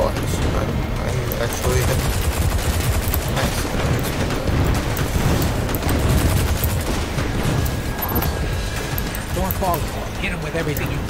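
Loud, continuous rapid gunfire and heavy booming blasts from a grenade launcher in the Destiny 2 video game, a dense barrage running without letup under a busy game mix.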